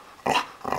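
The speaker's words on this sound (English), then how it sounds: "Growl." A trained dog gives short growls on command, two low rumbling bursts close up, the second briefer than the first, with no talking.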